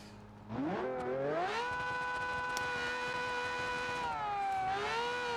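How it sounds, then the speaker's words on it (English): A prototype hypercar's V12 engine in BeamNG revs up sharply after a quiet start and holds a loud, steady high-pitched whine, then dips and climbs again near the end, heard alone. "Our brand new prototype car with a V12 engine."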